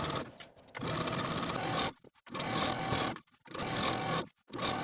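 A sewing machine stitches along the waistband fold of an elastic-waist skirt. It makes close, rapid mechanical whirring in three long runs, with short pauses between them.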